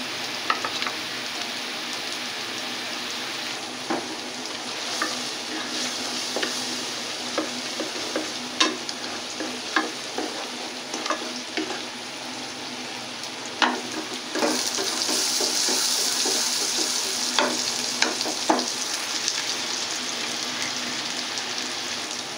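Whole spices and ground coriander with salt sautéing in a pan for a chicken and cabbage curry, a steady broad sizzle with scraping spoon strokes, stirring clicks scattered throughout and the frying swelling louder near the end, no voices.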